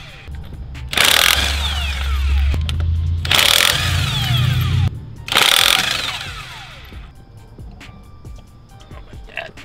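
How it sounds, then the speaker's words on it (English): Impact wrench bursts spinning lug nuts off the wheels of a brand new 2022 Dodge Charger, three loud rattling bursts about two seconds apart over a low engine-like hum, with faint background noise between. "Take off the lug nuts so you can get the wheels off and then clean them."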